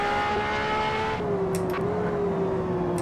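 A race car engine in the Assetto Corsa racing game holds 5th gear at speed, a steady, loud droning whine whose pitch wavers slightly, heard alone without voices.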